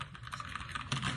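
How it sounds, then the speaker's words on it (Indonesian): Fingers typing on a mechanical keyboard, a quick close-up patter of crisp clacky keystrokes with no talking. "gue suka mechanical keyboard gini nih, yang bunyinya tuh wow, ASMR."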